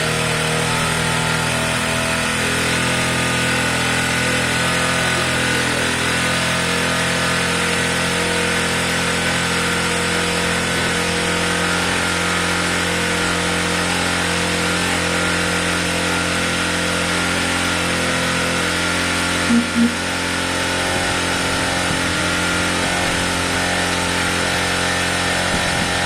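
A Zontes Tiger 125cc motorcycle engine runs steadily just after its first start-up, a loud, even mid-pitched buzz that holds close and constant for the whole stretch.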